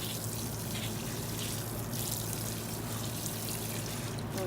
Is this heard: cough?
no